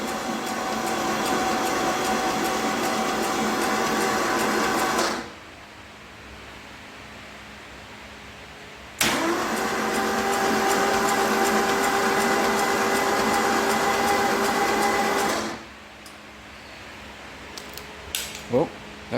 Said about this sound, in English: Should just turn over there because there's no spark plugs or anything.